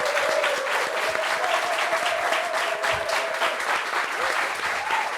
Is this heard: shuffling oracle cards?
no